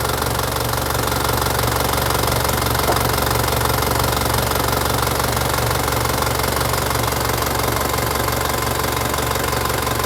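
A car engine idles steadily while its alternator is tested during a check for a battery drain, giving a constant loud mechanical drone with a rapid knocking rhythm and low hum, unbroken throughout.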